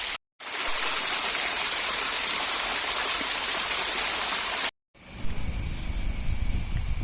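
A forest waterfall with a reduced flow of water over rocks, heard as a loud, steady broadband rush that cuts out briefly twice and then returns as a rougher, closer roar.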